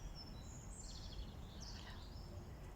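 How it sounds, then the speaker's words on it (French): Birds sing faintly beside a river outdoors, thin high chirps and short trills drifting over a steady low rumble of water and wind, with no one speaking. "On entend les oiseaux."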